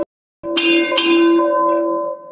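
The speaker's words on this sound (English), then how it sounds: "Strike four bells." A ship's bell struck for four bells at a naval change of command ceremony at the Engineering Duty Officer School, loud and close, with two quick clear strikes whose bright tones ring on and slowly fade.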